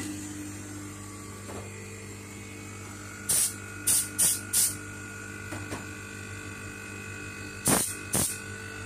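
Spray gun fed by a vacuum generator through a hose, giving a quiet steady hum with sharp hissing spray bursts, three close together and two more later, set against a low mechanical drone.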